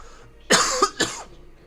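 Two sharp coughs in quick succession, close and fairly loud, with quiet room sound around them.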